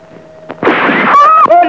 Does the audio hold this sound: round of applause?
no